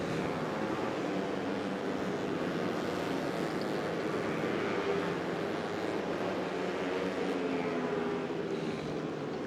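A pack of racing motorcycles sets off on a formation lap at a Malaysian Cub Prix race, engines merging into a continuous droning whine that stays fairly steady and somewhat distant throughout.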